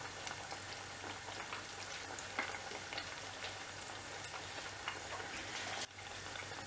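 Spring onion masala vadai frying in a pan of hot oil, with a continuous close sizzle and a scattering of bubbling pops, plus a brief soft knock near the end.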